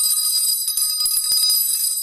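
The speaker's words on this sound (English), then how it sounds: "It's the dinner bell." A hand-held dinner bell rings in quick, bright repeated strikes, loud and close, with no voices.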